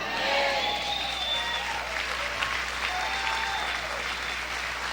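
Church congregation applauding loudly and steadily throughout, with scattered voices and cheers mixed into the dense clapping during a worship service.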